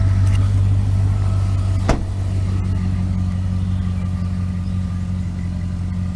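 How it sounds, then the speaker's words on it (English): Aftermarket exhaust on a lifted Jeep WJ Grand Cherokee recorded from outside, a deep steady idle drone with one brief sharp blip near the start, then a smooth low burble holding close by. "Sounds pretty good with this exhaust. Here's the outside clipping for you guys."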